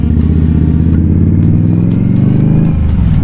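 A motorcycle engine drones steadily and close while the rider downshifts on a road descent, its pitch shifting near the end as the gear changes.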